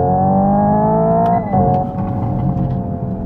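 A Hyundai IONIQ 5 N accelerates hard toward its redline, its synthetic engine note whining steadily upward, then dips sharply at the shift into second before climbing again. The sound is loud and close, with no talking.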